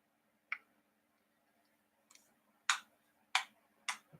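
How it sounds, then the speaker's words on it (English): Five sharp hand claps in an uneven sequence, the first lone and soft, then a faint double clap, followed by three louder, close claps spaced about half a second apart in a quiet room. "That was clapping."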